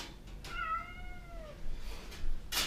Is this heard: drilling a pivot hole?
no